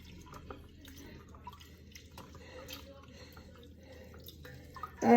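Hands massage Irish moss seaweed in a bowl of water, giving soft sloshing, dripping and squishing sounds that stay quiet and close, ending in a louder splash.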